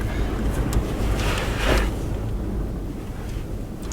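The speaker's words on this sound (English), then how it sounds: "it's just so windy" Steady wind gusts buffet the microphone out in the desert, a continuous low rumbling roar with a brief louder surge midway and no voices.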